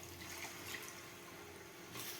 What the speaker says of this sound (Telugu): మనం ఇప్పుడు ఈ చింతపండు వాటర్ని మనం వేసేద్దాము.